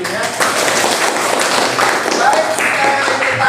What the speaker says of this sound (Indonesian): Tepuk tangan dulu dong untuk Andi ya.